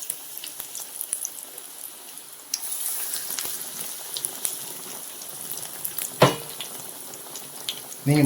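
Bajji fritters sizzle and crackle in hot oil, a faint, steady frying hiss with scattered pops and a louder burst near the end, and no voices.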